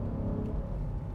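A car engine revs cleanly, giving a short, steady low rumble with no talk over it.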